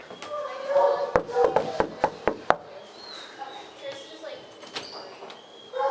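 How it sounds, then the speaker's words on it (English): Knuckles rap on a door six times in a quick, sharp, evenly spaced series, close and distinct, with people talking around the knocks. "I'm gonna knock on the door"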